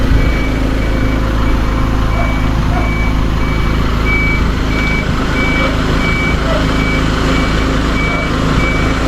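A construction truck reverses with a steady, evenly spaced backup beep over a loud, continuous diesel engine rumble; faint voices are heard beneath.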